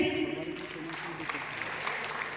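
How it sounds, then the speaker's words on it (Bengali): An audience claps at a Brahma Kumaris gathering in Ranaghat, a dense, steady patter of applause filling the room, with a voice heard at the very start. "সকলে একটা করতালি দেবেন।"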